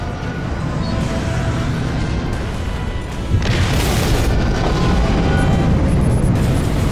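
An artillery cruiser blows apart after a flechette swarm strike in the space-combat game Dreadnought. A low, rumbling background suddenly gives way to a loud, sharp explosion partway through, followed by a sustained, heavy roar.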